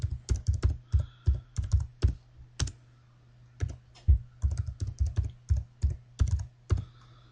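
Close, crisp keystrokes on a computer keyboard as a password is entered, irregular bursts of clicks with short pauses between, alone over a faint steady hum.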